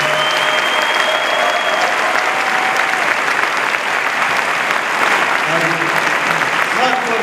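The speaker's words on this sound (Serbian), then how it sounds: "I jedan veliki aplauz za naše prve govornike danas." Audience applause at a mayoral candidate's closing political convention, dense sustained clapping filling the whole stretch at steady loudness, with crowd noise and faint tones beneath.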